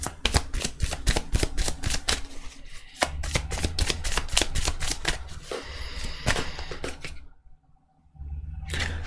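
Cards shuffled and drawn for a card reading: a fast run of sharp riffling snaps and flicks, loud and close, breaking off briefly before another burst of flicking, then a short near-silent gap and a final soft rustle.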